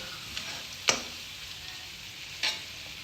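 Masala for rajma sautés in oil until the oil separates, a steady close sizzle punctuated by two sharp spatula scrapes against the pan.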